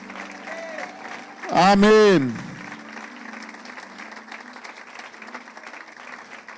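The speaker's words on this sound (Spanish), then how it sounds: "Dele un aplauso al Señor fuerte con todo su corazón." A church congregation applauds steadily during worship, a moderate wash of clapping with a loud voice calling out briefly over it near the start before the clapping continues underneath.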